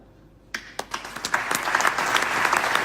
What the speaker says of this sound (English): This applause are for Egypt and for Egyptians.